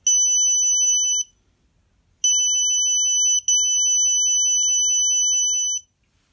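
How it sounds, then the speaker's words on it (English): Snap Circuits motion detector horn sounding three times, a loud, steady electronic alarm tone lasting one to three seconds each, with short silent gaps between the blasts. "Now the circuit only produces noise and not light when it detects motion."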